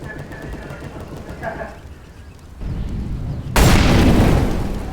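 A bomb goes off in a video game: a low rumble builds, then a loud, sustained broadband blast fills the last second and a half, with faint voices earlier.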